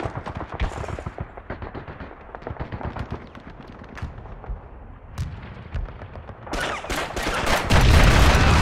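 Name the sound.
grenade explosion through a window, Call of Duty video game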